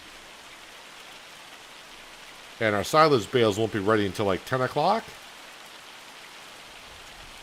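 Rain falling in Farming Simulator 25, a steady soft hiss of rainfall throughout, with someone talking over it briefly in the middle.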